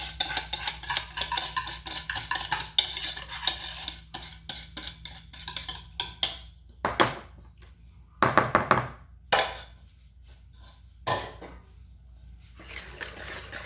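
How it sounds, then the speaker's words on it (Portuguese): Batter for a pan-cooked cake is stirred in a bowl, with soft scraping and knocking strokes that run fast at first, then thin into sparse, irregular taps separated by quiet gaps. "misturar até cansar. Sempre é o que a gente faz com massa."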